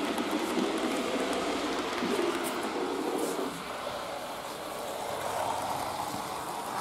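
A Liliput BR 18 model steam locomotive pulls an Orient Express model train around a layout, giving a continuous rolling rumble of wheels on track at close range that fades slightly as it passes.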